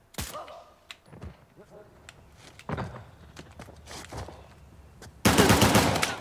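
Gunfire in Uncharted: The Lost Legacy comes as scattered single shots and thuds amid footsteps and shuffling, ending in a loud, dense burst of automatic fire.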